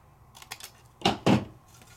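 Two quick crisp snips of scissors cutting card stock for stamping, following a few lighter clicks of handling, close and alone.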